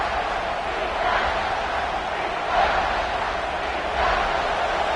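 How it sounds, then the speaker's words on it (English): A big stadium crowd at an Alabama vs Oklahoma college football game roars steadily as the defense holds near the goal line, a dense continuous wash of cheering that swells in waves throughout. "this big crowd doing everything possible to inspire this defense down here near the goal line"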